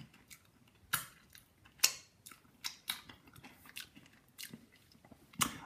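Kettle chips crunch in sharp, irregular bites close up, about a dozen crisp crackles with quiet chewing between them.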